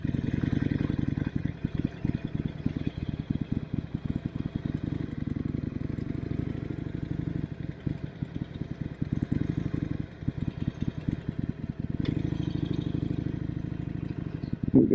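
New motorcycle cruising neighborhood streets on a hot day, a steady mid-pitched engine drone with rapid rhythmic pulsing and some clatter, engine revving slightly near the end, close and continuous.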